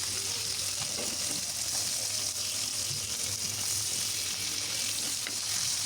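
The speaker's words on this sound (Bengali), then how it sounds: "মাছ আমার প্রায় ভাজা হয়ে গেছে।" Fish frying in a pan gives a dense, continuous sizzle close up, steady and loud throughout, with no one speaking.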